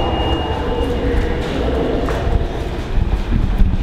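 Steady low rumble and rattle of a New York City subway train in motion, with a faint squeal of wheels and clanking rising toward the end.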